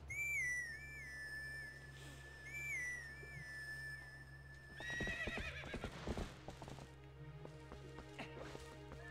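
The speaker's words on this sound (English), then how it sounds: "let's summon Jebby. I need Jebby. My horse." Whistle-like rising tones sound first, then rapid hoofbeats clip-clop in a quick galloping rhythm, loud and close, over a steady low hum, as a horse is summoned in Twilight Princess HD.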